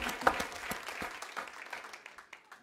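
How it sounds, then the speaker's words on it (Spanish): Church congregation applauding after a call to praise the Lord, dense clapping spread across the room with irregular louder claps poking through, tapering slightly toward the end. "Vamos a darle un aplauso al Señor"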